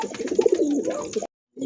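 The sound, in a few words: pair of Satin pigeons cooing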